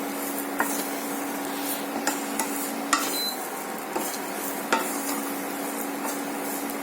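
Semolina frying on a low flame for laddu is stirred in a pan, giving a steady soft sizzle with scattered scraping and clinking taps of the spoon against metal, close and continuous.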